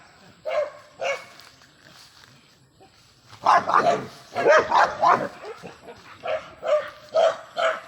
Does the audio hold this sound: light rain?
no